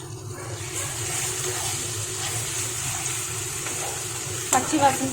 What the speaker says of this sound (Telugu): పచ్చి వాసన పోయే వరకు వేయించుకుందామండి.